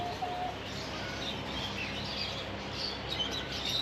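Several birds in a mini zoo in Ashdod, Israel, chirp and call faintly in the distance over a constant ambient hum, scattered short notes rather than steady song.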